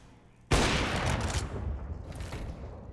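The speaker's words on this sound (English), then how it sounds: "Couple of warning shots being fired." Gunshots fired during a Counter-Strike match on the Mirage map, a sudden loud burst of gunfire followed by sustained rattling shots and echoing reports that continue through the clip.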